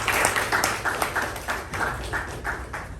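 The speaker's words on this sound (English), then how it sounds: "Let's give him a round of applause for the job that he has" Audience at a meeting applauding, a dense, steady wash of many hands clapping in the room throughout, fairly loud and continuous with no talk over it.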